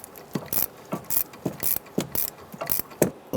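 A hand ratchet tightens a nut on the rear shock mount of a 2005-2010 Chrysler 300. Up close it makes a loud, rhythmic run of clicking strokes, about seven even bursts, with no speech.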